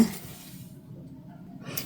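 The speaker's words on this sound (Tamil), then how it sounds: "இப்போ வந்து இந்த காயினையும் நான் உள்ளே போடுறேன்" A coin dropped into a brass pooja vessel filled with cleaning liquid gives a soft, brief metallic clink, followed by faint sloshing and quiet room noise, with no voices.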